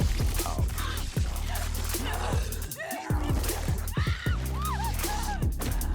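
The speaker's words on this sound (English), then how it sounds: "Those screams." Shrill screams and shrieking cries from zombies in Black Ops 6 Zombies, loud and repeated over dense game noise, with several rising and falling wails across the whole stretch.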